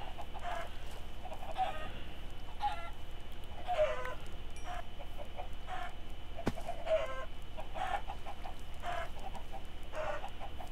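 Chickens clucking in the Minecraft video game, a run of short, repeated clucks arriving in bursts over a steady background hum, with no talk.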